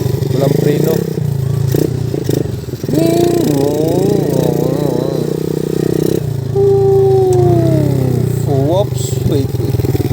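A motorcycle with no brakes engine runs steadily on a rough, uncertain dirt road, a constant close drone with clattering and scraping, while people talk over it.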